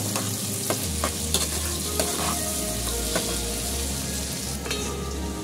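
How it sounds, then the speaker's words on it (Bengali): Ginger and garlic frying in a pan for an egg curry, a continuous close sizzle with several sharp clicks and scrapes of a spatula and a low hum underneath, and no speech. "আদা রসুন দিয়ে দিচ্ছি, এটাও ভেজে নেব"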